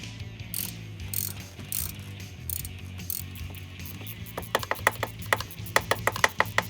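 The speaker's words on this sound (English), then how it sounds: "use your ratchet with the 6-inch extension and tighten them up" Ratchet on a 6-inch extension tightening spark plugs on a Toyota Tacoma: soft mechanical shuffling, then a quick run of crisp, close pawl clicks.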